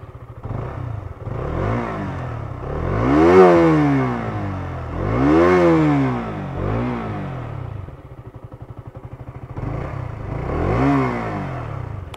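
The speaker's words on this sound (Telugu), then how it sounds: "ఇదే మన బైక్. వన్స్ ఒకసారి ఎగ్జాస్ట్ సౌండ్ వినిపిస్తా." A 2022 KTM Duke 200 BS6 motorcycle idles with a lumpy single-cylinder exhaust note, then revs up and back down in four loud rising-and-falling blips, heard close and without talk.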